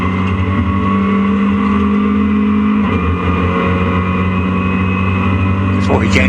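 Race cars at Donington circuit, including a Clio, roar as a steady, loud engine drone with a sustained low hum, heard under a commentator's continuous talk.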